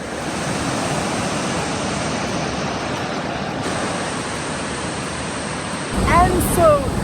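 Runoff water from a heavy rainy season rushes through rivers and waterfalls near the Skyrail from Cairns to Kuranda, a broad continuous roar heard from a distance, with a brief burst of louder noise near the end.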